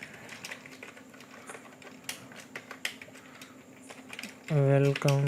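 Fingers type on a computer keyboard in quick, irregular bursts of light clicks, close up and fairly quiet, with a person speaking at the very end.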